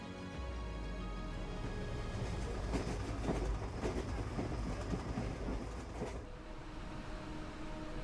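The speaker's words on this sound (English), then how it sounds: "It is the sound of a train passing along the southern shore, running on the Trans-Siberian Railway" A distant train on the Trans-Siberian Railway rumbles past along a southern shore with a steady roll and rhythmic clickety-clack of wheels on rails, faint and continuous throughout.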